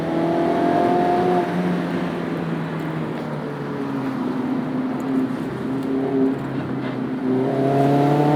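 A Mazda MX-5 Miata tuned for E85 accelerates through a canyon, its engine note rising and falling through gear changes, loud and close without speech.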